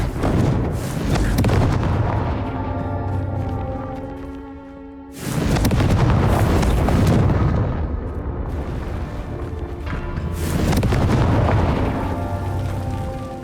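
Confringo fire spell blasts in the Hogwarts Legacy video game: three heavy booming explosions, each a loud burst followed by a long rumbling decay, with no speech.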